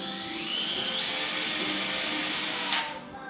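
A power drill whines steadily at high pitch as it pre-drills into wood at an angle, the pitch climbing slightly before the motor cuts off near the end.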